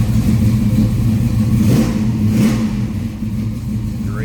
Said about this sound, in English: Let's go ahead and fire this up so you can hear it.